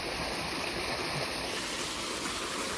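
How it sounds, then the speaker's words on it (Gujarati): Steady rushing water pours continuously, a broad close wash of splashing flow with a faint high whine in the first half. "કેવું મસ્ત ઠંડુ ઠંડુ પાણી આવે છે"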